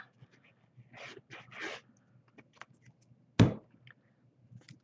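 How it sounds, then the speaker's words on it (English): Dogs whimpering and panting in the background of a quiet indoor craft session, with a few faint soft bursts and one sharper yelp-like sound partway through. "Can y'all hear my dogs in the background?"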